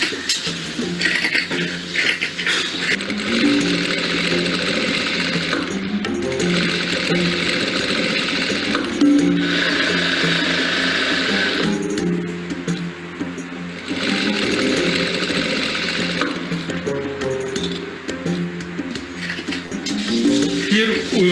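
A sewing machine in a refugee workshop's sewing room runs in steady bursts with brief pauses, a close mechanical whirring heard under ongoing talk.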